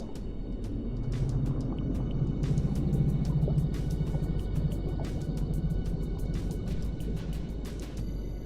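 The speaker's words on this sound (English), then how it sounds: "Sorry if you hear a whirring in the background. That would be my desk fan." A desk fan whirs steadily in a room, a broad constant hum with faint rumble running throughout, with light clicks scattered over it.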